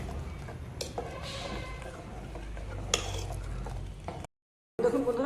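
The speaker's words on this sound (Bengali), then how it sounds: "চালটা দেওয়ার পর তোমাকে নাড়াচাড়া করতে হবে" Rice stirred in ghee in a pot for date-jaggery payesh, with a continuous soft frying hiss and scraping spoon strokes. It cuts out briefly near the end and then a voice comes in.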